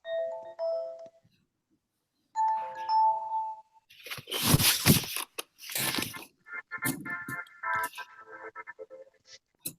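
Doorbell or ringtone chimes: two short melodic ding tones, then a burst of noisy crunching and rattling, followed by a buzzy repeating electronic ring pattern.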